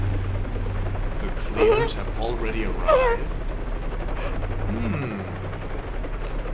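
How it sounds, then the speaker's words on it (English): Inside a Resident Evil video game, a helicopter's low, steady rotor hum runs under a speaking voice, with sharper game effects rising briefly over it. "Helicopter?"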